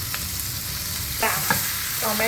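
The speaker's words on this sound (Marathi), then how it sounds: "त्यामध्ये मी टॉमॅटो पण परतवून घेते" Onion and tomato sautéing for prawn pulao, a steady soft sizzle of frying with a few clear scraping stirs of a spoon in the pan, close and moderate in level, no talking.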